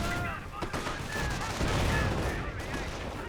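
Sustained gunfire from an M8 Greyhound armored car in a Company of Heroes battle, a dense continuous rattle of shots mixed with other battlefield noise and faint voices, loud and steady throughout.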